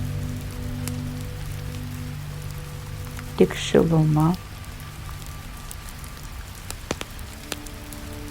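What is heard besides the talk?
rain outside hotel room window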